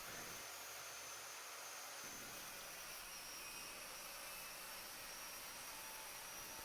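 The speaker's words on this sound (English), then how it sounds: "we're able to make some cuts in the plywood here" A homemade panel saw rips through a sheet of plywood, a loud, steady broadband whine running for the full length with no pauses and no voices.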